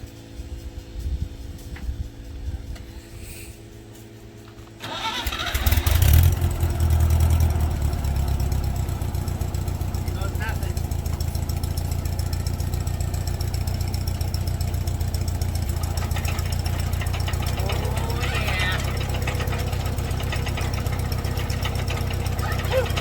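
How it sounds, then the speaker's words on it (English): A tractor engine driving a PTO hay rake starts up with a burst of noise, then settles into a steady, loud low rumble that runs on for the rest of the stretch. "We'll see what happens when we put the tractor to it."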